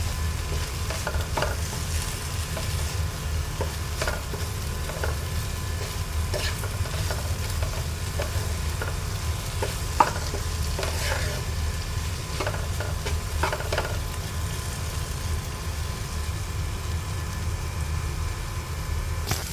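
Okra (lady's finger) frying in an open pan for a Kerala-style mezhukkupuratti, a steady close sizzle broken by repeated clinks and scrapes of stirring throughout.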